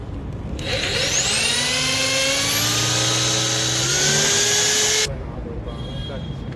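An electric drill cuts an 11 mm hole in the body of a 2022 Grand Vitara while a side step is fitted. The drill starts sharply, whines steadily and loud up close with a slowly rising pitch, then stops suddenly.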